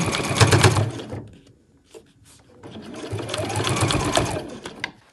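A sewing machine bastes bag fabric and lining together in two loud, rapid stitching bursts separated by a brief quiet pause with small clicks.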